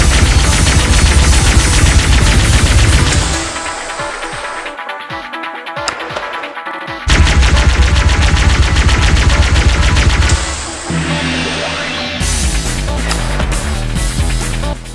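A plasma rifle in Halo: Combat Evolved fires in long rapid bursts of loud, dense shots, cutting out for a few seconds, then resuming with another sustained burst.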